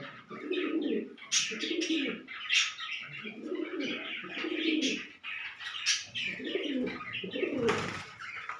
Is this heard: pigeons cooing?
yes